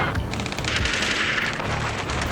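Sustained machine gun fire in the Ace Combat 7 video game, a steady rattling barrage at moderate loudness that blends into a dense wash of battle noise, with no talking.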